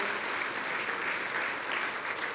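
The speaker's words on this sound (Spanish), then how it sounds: "Dale el aplauso a Jesús." A church congregation applauds steadily in praise of Jesus during a sermon, a dense, even wash of clapping that holds at moderate loudness throughout.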